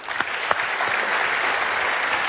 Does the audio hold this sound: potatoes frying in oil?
no